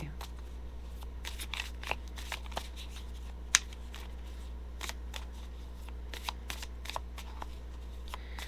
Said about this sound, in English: let's pull an oracle card and see what we have for Gemini